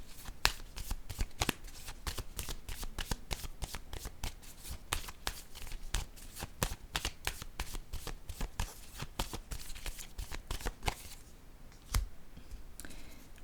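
Playing cards are shuffled close up in quick, crisp bursts of riffling and snapping that repeat in a steady rhythm, with no speech.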